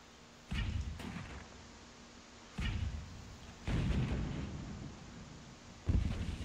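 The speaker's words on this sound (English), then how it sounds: "Come on, mortars, take these guys out." Mortars in the war strategy game Forts fire in a series of deep booming thuds, four or five heavy blasts spaced a second or two apart over a low background rumble.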